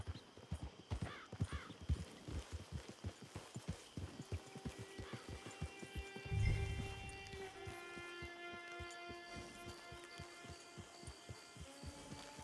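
Horse hooves clip-clop steadily on the ground in Red Dead Redemption 2 Online on PS4, a fast, even rhythm of close hoofbeats that runs throughout, with a soft thump partway through and faint sustained musical tones rising later.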